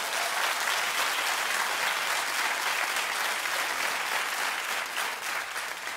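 Thin, scattered audience applause in a television studio, a steady patter of clapping that holds evenly for several seconds with no voices over it.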